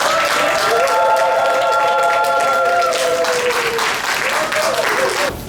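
Wedding guests applaud steadily for several seconds at a nuptial ceremony, a full room of clapping with a held musical tone ringing over it that fades partway through.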